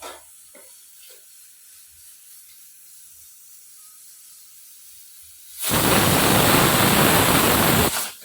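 Several seconds of quiet kitchen background break into a pressure cooker whistle while beef pickle cooks, a loud, sustained rushing steam hiss that lasts about two seconds and then cuts off abruptly.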